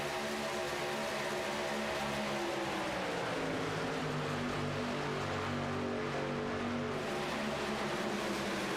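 NASCAR pickup trucks racing at Michigan International Speedway, one engine note rising and then dropping in pitch as a truck roars past, with a steady wash of engine noise from the field behind it.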